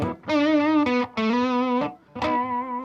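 Played on the bridge pickup with gain, a Reverend Pete Anderson PA1 electric guitar rings out in bright, gritty sustained chords, three separate strums with short gaps, loud and up close, no voices.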